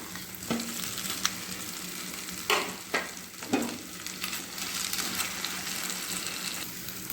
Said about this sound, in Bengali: এবার দিয়ে দেবো ভেজে রাখা মাছের মাথা